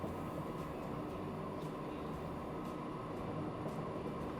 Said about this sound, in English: Is because we're behind the freight train?